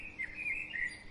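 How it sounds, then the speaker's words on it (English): A medium-sized parrot, a cockatiel, gives a few short, fairly faint high chirping calls in quick succession. "cockatiel, also known as the wero or quarian. It is a medium-sized parrot."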